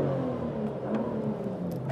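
A sports car, either an Aston Martin DBS Superleggera or a McLaren 720S, drives through a road tunnel, its engine a steady, loud rumbling drone with a faint rising whine, heard close and enveloping from inside the car.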